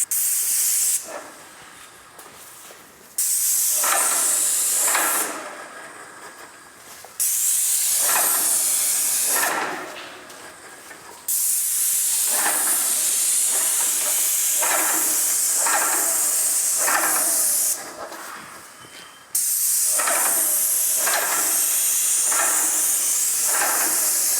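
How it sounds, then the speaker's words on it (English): A paint spray gun lays down a finish coat in long, loud, sustained hissing blasts separated by brief pauses, repeating steadily with no talking. "So I just sprayed this one as well."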